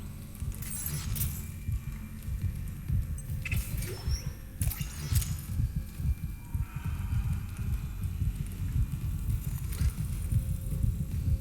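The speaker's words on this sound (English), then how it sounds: "You can hear even the heartbeat like in the previous game" Heartbeat in the Dead Space Remake video game, a low, steady thumping pulse that repeats continuously under an eerie ambient hum, with occasional faint higher game noises.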